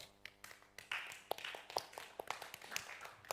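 Scattered applause from a small audience for a contestant at a Bible quiz, a few seconds of uneven, modest hand claps in a room, fairly quiet and without talk.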